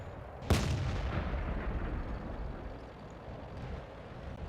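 An M53 artillery gun fires in a tank video game: a single sharp, booming shot near the start, followed by a long rumbling tail over steady low background noise.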